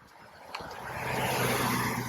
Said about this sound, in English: Excuse the noise from the road as cars go